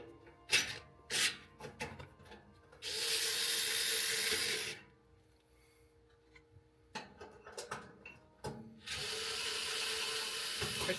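A hand tool backs screws out of a Skywalker V1 printer in bursts of close ratcheting clicks, two longer stretches of rapid ratcheting separated by scattered clicks and handling noise in a quiet room.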